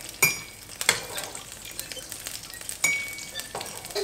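Fatty beef mince fries quietly in a pan while a utensil pushes it to one side. Soft sizzling runs under several sharp scraping and clinking strokes spaced a second or so apart, close up and with no talking.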